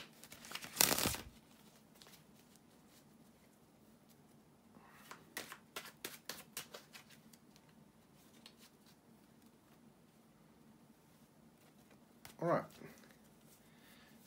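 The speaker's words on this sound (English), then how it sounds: "just bear with me a second, guys, to shuffle the cards." Short, close bursts of tarot cards being shuffled, separated by long quiet pauses with faint background hiss.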